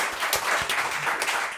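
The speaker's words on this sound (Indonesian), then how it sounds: "Terima kasih tepuk tangan buat Oza dan Sastra" Applause from the audience at a live Indonesian roasting podcast taping: a short, dense burst of many hands clapping together, steady and fairly close throughout.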